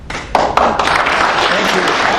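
Audience applause at a congressional debate, a broad, steady wash of clapping that swells in after a brief lead-in and holds loud and continuous to the end, with a few sharper individual claps standing out near the start.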